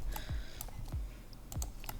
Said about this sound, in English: Zero key on the keyboard.